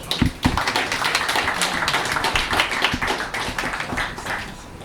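Audience applause at an agribusiness investment talk in Cameroon, a dense steady patter of many hands clapping for several seconds, close and loud with no voices over it.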